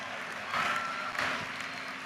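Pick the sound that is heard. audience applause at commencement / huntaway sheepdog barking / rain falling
audience applause at commencement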